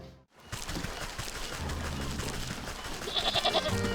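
Sheep bleat in the Wytchwood video game, a short bleating call rising near the end over steady game music and ambience.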